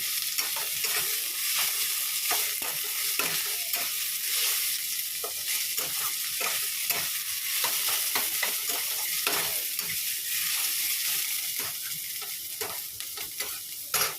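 Shrimp frying in a pan with salt and turmeric, a continuous crackling sizzle with frequent sharp spatters and stirring scrapes, close and steady for the whole stretch with no voices.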